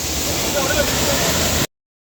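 A waterfall at a camping spot in Yellapatty roars as a steady, dense rush of falling water, loud and close, before cutting off abruptly into silence.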